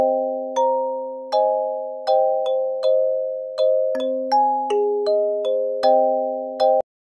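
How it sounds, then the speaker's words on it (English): A kalimba sound in a music mixing session plucks out a slow, moody melody, each bright ringing note sustaining and overlapping with the next, heard alone and clearly without effects. "So to start with, I have a kalimba sound pulled up."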